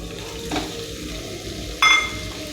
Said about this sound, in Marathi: आता ह्या खव्यामध्ये जे अशा गाठी आहेत त्या मोडत मोडत खवा परतून घ्यायचा आहे